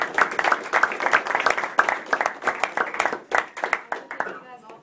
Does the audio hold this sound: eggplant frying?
no